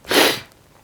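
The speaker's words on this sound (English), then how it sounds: "Excuse the sniffing." A single sharp nasal sniff, close and fairly loud, breathy and brief, then quiet.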